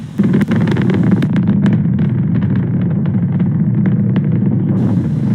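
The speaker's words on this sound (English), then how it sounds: "We're powering down the Merlin engines to relieve the acceleration as we get ready for the period of maximum dynamic pressure." SpaceX Falcon 9 Merlin rocket engines roar during a GPS III satellite launch as a continuous, rumbling, crackling blast, heard from a distance with wind buffeting the microphone.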